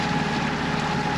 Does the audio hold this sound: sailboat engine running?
yes